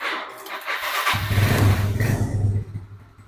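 An old four-stroke motorcycle engine cranks and catches, settling into a low, rough rumbling idle close by.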